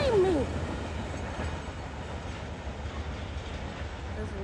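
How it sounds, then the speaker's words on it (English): A train rolls past steadily, a continuous low rumble and rattle of rail cars filling the clip at moderate distance, with a brief squeal at the start. "There's another train coming."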